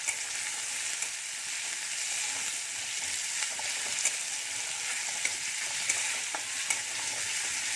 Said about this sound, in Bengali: আদা আর কাঁচা লঙ্কাটা কিন্তু আলাদা পেস্ট করে এইভাবে ভেজে নিয়ে দিলে আদার যে একটা গন্ধ থাকে সেই গন্ধটা আর থাকবে না